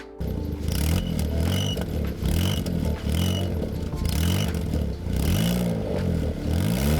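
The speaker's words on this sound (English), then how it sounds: "The exhaust's got a massive blow in it." A cheap used car's engine runs with a rough, puffing exhaust blow from a leaking exhaust, steady and close, with periodic clattering pulses throughout.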